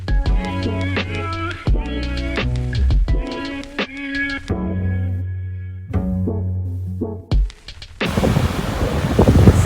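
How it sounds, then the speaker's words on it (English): A tonal melody with rhythmic plucked or struck notes plays outdoors in the Orkney Islands, then near the end a loud rushing roar of wind buffeting the microphone swamps it. "excuse the wind, hopefully you can hear me."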